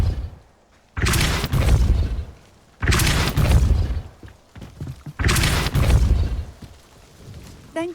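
Depulso spell cast in Hogwarts Legacy: three loud, whooshing blasts, each lasting about a second, spaced roughly two seconds apart and heard alone without talk.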